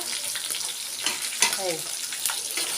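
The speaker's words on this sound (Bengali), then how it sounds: "এই মাছ ভাজা হচ্ছে এখন" Oil crackles and sizzles steadily in a pan as fish fry, with a few sharper pops and faint kitchen clatter.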